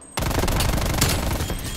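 Rapid bursts of gunfire from a video game weapon in a multiplayer zone-capture match, loud and dense, starting abruptly after a brief quiet moment and continuing steadily throughout.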